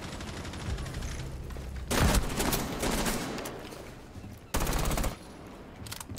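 Automatic gunfire in the tactical shooter Rainbow Six Siege: two loud, sharp bursts of rapid shots stand out against a steady background of game noise and more distant firing.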